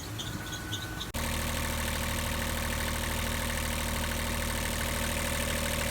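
A generator engine on a sailboat starts up and settles into a steady, loud, close drone that runs without pause after a brief quieter opening.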